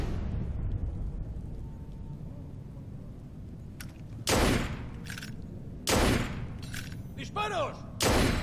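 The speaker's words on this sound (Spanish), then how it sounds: "¡Disparos!" Several loud gunshot bursts from the video game Assassin's Creed Unity ring out at irregular intervals over a low rumbling background, some followed by short ringing tones.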